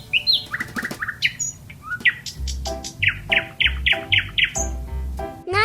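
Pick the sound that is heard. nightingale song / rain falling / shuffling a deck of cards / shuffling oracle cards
nightingale song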